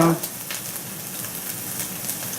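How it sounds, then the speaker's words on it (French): Chopped onion and shallot sizzle steadily in two spoonfuls of olive oil in a pan, a close, even frying hiss with faint stirring clicks and no talking. "Là j'ai mis 2 cuillères à soupe d'huile d'olive. Donc on laisse bien revenir un peu ça"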